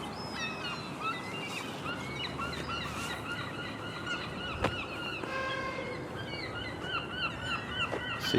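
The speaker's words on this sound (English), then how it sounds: "Seagulls are very noisy this morning." Many gulls calling at once in Sunderland's old High Street one morning, a steady chorus of harsh repeated cries over a continuous outdoor background, some near and some farther off.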